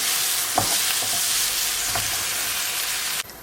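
Butter melts in a hot pan with a steady, close sizzle that runs almost unbroken, a few soft stirring scrapes are mixed in, and it cuts off abruptly near the end.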